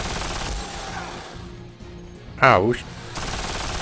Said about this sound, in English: Oh, it's like a heavy machine gun, minigun thing.